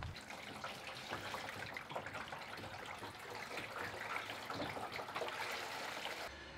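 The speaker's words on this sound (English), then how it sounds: "So we'll fill this up and then show you the water system." Water pouring into a barrel that feeds automatic quail waterer cups, a continuous faint splashing trickle that stops abruptly at the end, no talking.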